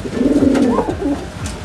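A racing pigeon coos close and loud, one rolling throaty call lasting about a second.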